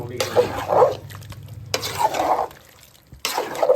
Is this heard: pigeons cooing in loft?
no